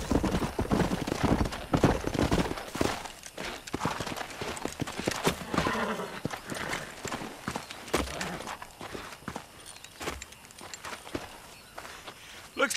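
Horse hooves clip-clop in the Red Dead Redemption video game, with several horses on a ride giving a steady uneven run of thuds. Game voices and chatter run over the hoofbeats throughout.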